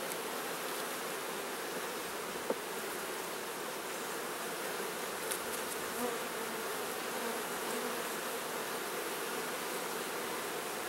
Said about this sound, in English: lots of bees on this frame, and they've got this frame full of honey